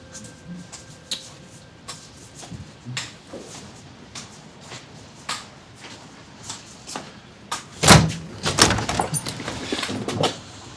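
A door is opened during a hospital drama scene, with knocking-like thuds and rattles through the clip and a louder burst of clattering impacts near the end; no speech is heard over it.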